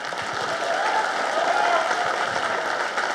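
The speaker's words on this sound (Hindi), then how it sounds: "मैं चाहूँगा कि ज़ोरदार इनके लिए तालियां बजाए" A crowd at a movie stunt artists' association press conference claps steadily for the fighters association, sustained dense applause at moderate distance with faint murmuring beneath.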